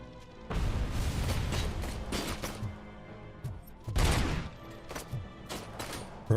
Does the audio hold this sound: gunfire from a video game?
yes